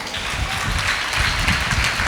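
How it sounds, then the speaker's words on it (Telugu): A church congregation claps together, a dense, steady patter of many hands filling the hall at moderate loudness. "చప్పట్లు కొట్టండి"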